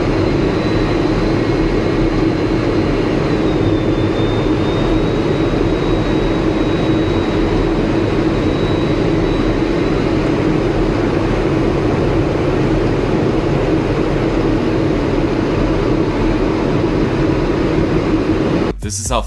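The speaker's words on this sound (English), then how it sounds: "This is what flying really close to the ground looks like from the cockpit of an F-16." Steady, loud roar of an F-16 fighter jet flying low, heard from inside the cockpit as a constant broadband engine and wind rush with a faint high whine, continuous throughout.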